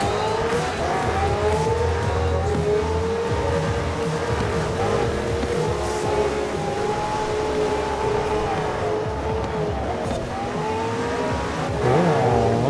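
Sports cars, among them a Ferrari and a Porsche Panamera, race in the video game Forza Horizon 4, engines droning and rising and falling steadily throughout at a constant loud level, with no talking.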